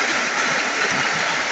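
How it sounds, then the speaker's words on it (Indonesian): A green, moss-filled river stream flows nearby, a constant loud hiss and burble of moving water with no voices. "Kali ini kita berada di sebuah sungai yang sangat indah, sangat hijau, penuh lumut."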